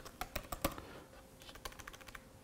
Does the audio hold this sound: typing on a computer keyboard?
yes